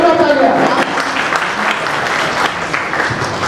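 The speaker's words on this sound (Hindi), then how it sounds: "चाहूँगा जोरदार तालियां के लिए, जोरदार तालियां" A hall crowd at a Mumbai ceremony honouring meritorious students breaks into loud, sustained applause, with a voice over the clapping at the start.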